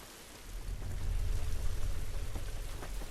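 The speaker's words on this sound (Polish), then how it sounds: "Ten deszcz nam nie pomaga." Rain falling in the video game The Last of Us, a steady broadband hiss that swells slightly after the first half second and holds, dense and close with scattered drop ticks and no voices.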